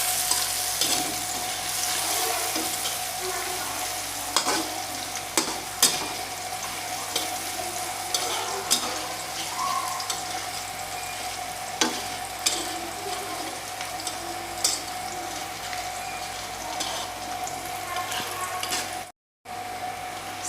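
Chicken liver and tofu stir-fried in a pan, a steady close sizzle with scraping and clinks of a spatula throughout, no talking.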